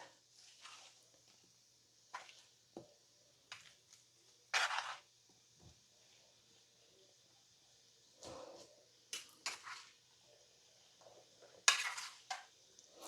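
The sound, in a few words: turning butternut squash in a cooking pan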